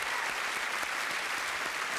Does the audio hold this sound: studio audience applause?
yes